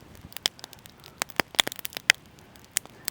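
A small grass fire crackles slowly outdoors, with sparse sharp snaps and pops scattered irregularly over a quiet background.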